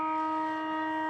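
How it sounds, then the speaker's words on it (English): A sustained siren blares at a local football match between Mitcham and North Ringwood, its steady multi-tone wail holding loud and unbroken, with no talk over it. "there goes the siren"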